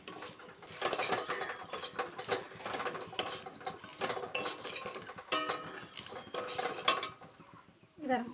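Jujubes are stirred into a thick, sticky jaggery pickle mixture in a pan. A utensil clinks and scrapes against the metal in quick, irregular strokes, close but fairly quiet, with a brief faint bump near the end.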